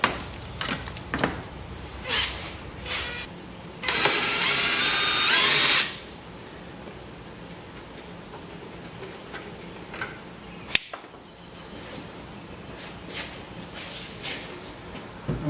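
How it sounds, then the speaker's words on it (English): A screw gun whirs loudly for about two seconds while backing a screw out of a golf cart dash, set between faint scattered handling clicks and knocks. "We're going to take a screw gun,"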